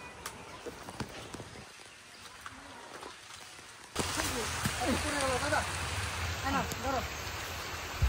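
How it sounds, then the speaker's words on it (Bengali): Rain begins suddenly partway through, shifting a quiet outdoor scene into a steady, broad hiss of falling rain that continues to the end, with people talking over it. "বৃষ্টি চলে এলো তো, তোমরা ঘরে চলে যাও"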